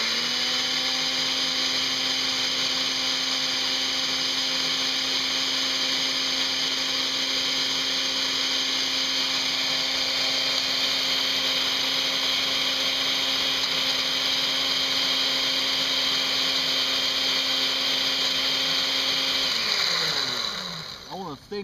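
Dried hot pepper pods ground into flakes in a blender or grinder, a loud steady motorized whir running nonstop for about twenty seconds before spinning down and stopping at the end.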